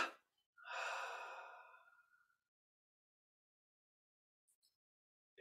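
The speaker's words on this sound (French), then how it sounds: "Et expire, on relâche tout." A slow, deep breath out during a guided breathing exercise, one long, soft, airy exhale heard up close in a quiet room, with a brief breath just before it.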